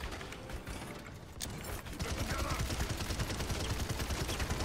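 Rapid rocket fire and impacts rattle in Overwatch, a burst of sharp reports building into a loud, steady barrage during hectic team play, with no talk.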